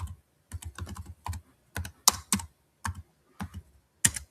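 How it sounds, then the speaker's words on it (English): Typing on a computer keyboard, close and clear, with irregular bursts of keystrokes separated by short pauses and a few sharper key hits, no talking. "We can hear you typing."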